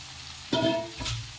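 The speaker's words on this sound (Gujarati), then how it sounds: "અને એને સરખી રીતે મિક્સ કરી લઈશું આ રીતના" Boiled potato pieces are stirred in a frying pan, giving two short scraping, sizzling bursts of cooking noise, close by with no talk.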